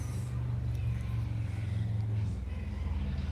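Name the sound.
car traffic noise outdoors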